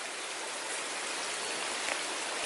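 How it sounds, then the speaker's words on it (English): A small creek flows in the Linville Gorge, a continuous close rush of water that stays steady and even throughout with no voices. "Here's a little creek I was telling you about."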